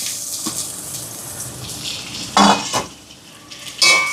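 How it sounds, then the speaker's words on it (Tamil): Finely chopped onions and green chillies sauté in a pan for a Sri Lankan veg bun filling, a steady hissing sizzle broken by several sharp utensil scrapes and clinks against the pan. "பாருங்க வெங்காயம் எல்லாம் வதங்கி வருது"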